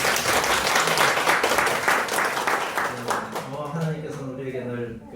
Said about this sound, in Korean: 그래서 축하의 박수를 한번 드릴게요